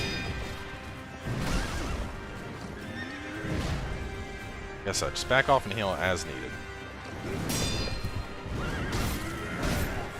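A horse neighs loudly in the video game Sekiro: Shadows Die Twice, with hoofbeats and game combat clatter beneath it. Someone talks over much of the clip.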